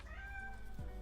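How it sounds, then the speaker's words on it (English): A cat meows once from the background, a drawn-out, fairly faint cry over a low steady hum of room noise. "Oh, there's my cat."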